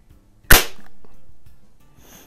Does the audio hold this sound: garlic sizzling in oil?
no